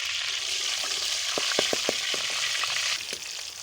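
Sugar and cardamom sizzle in hot ghee in a kadai wok while makhandi halwa is being made, a constant close frying hiss with a quick run of spoon taps and stirring scrapes midway.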